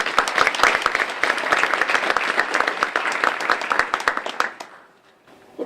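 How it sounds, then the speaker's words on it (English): Audience applause for award recipients at a community business awards ceremony, a loud, dense burst of many hands clapping that holds steady for several seconds, then fades out to near silence. "I'm going to ask for another round of applause for both of them"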